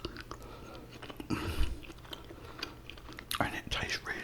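Steak and mashed potatoes are chewed close to the microphone, giving soft, wet mouth sounds and a few crunchier bites in short, uneven bursts.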